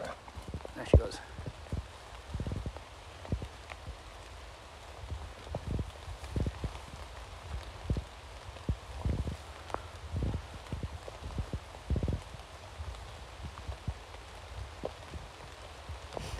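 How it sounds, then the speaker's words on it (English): Rain falls outdoors with soft continuous patter and scattered heavier drops tapping nearby surfaces, steady and moderately quiet throughout, with a voice speaking at times. "I'm going to leave it here because the rain is getting a little bit worse."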